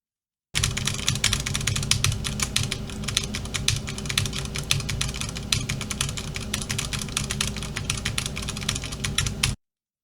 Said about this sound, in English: So right now I'm typing really fast with my left hand.